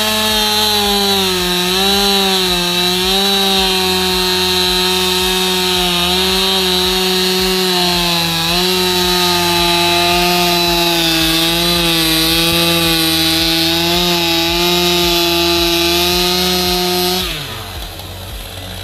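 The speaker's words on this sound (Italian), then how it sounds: "Motosega." A chainsaw drones loudly and continuously as it cuts firewood, its pitch wavering slightly under load before the engine drops off at the end.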